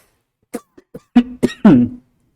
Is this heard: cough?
yes